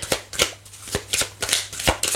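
Tarot cards being shuffled and handled, crisp papery riffles and slaps in quick repeated bursts, close and clear with no talking.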